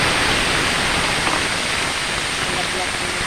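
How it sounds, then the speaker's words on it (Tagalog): Onions and garlic sauté for pinakbet in a steady, loud, hissing sizzle that holds evenly throughout, close by. "Ginisa-gisa ko muna yung sibuyas at saka bawang"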